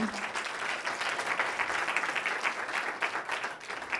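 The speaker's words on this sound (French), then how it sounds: "On peut t'applaudir bien sûr." An audience applauds a student presenter at an agricultural pitch session, steady many-handed clapping at moderate distance, fairly quiet and even for several seconds without speech.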